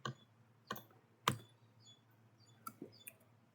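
A few sparse keystrokes on a computer keyboard, faint and close, isolated clicks spaced irregularly in a quiet room.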